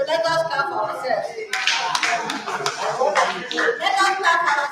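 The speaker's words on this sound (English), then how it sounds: "So let us clap for ourselves." Group of people at a youth horticulture training session clapping for themselves, a moderately loud burst of hand claps with uneven rhythm mixed with voices and room noise, swelling after a quieter start.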